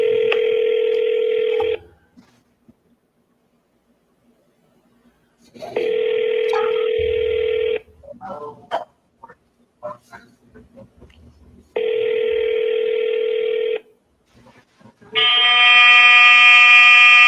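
A telephone call placed on a handset: a steady tone repeats in long on-off cycles, with brief clatter and a few faint voices in the gaps, ending in a harsher buzzing multi-tone signal.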